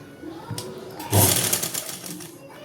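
A sewing machine stitching a box pleat on the back of a salwar: a short whirring run of the needle that swells to a loud burst near the middle, then tapers off, heard close up with no talking.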